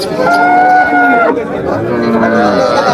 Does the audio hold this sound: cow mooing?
yes